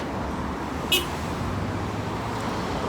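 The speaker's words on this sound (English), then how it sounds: "These are cars lining up to cross the bridge to the west side." Steady roadway rumble from cars lined up at dawn to cross the Demerara Harbour Bridge, a continuous near traffic drone with one brief sharp high tone about a second in.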